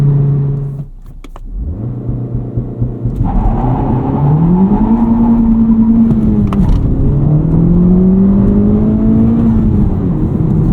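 Honda Civic Type R FL5 with a COBB Accessport 93-octane tune held at 3,000 rpm, then a clutch-dump launch: a loud, close engine drone that dips and surges as revs climb through two rising pulls.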